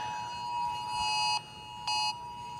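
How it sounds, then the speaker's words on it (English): Emergency tsunami warning tone on a phone: a loud steady electronic alert with a sustained pitch, briefly cutting off and resuming twice, heard alone with no talking. "You may be hearing another alert coming in."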